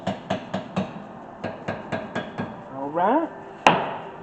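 A small hammer gently taps brake hardware on a 2015 Lexus NX200t, two groups of four light, evenly spaced knocks, then a short rising squeak and one sharper final tap, close, with one brief spoken word.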